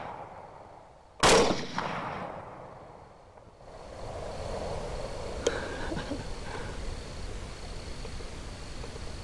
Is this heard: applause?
no